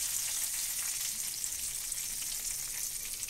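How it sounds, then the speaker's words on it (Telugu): Pieces of fish fry in hot oil, a steady, close, hissing sizzle with fine crackles that keeps going without a break and with no talking. "నూనెలోనే బాగా ఉడిగిపోతుంది చూడండి"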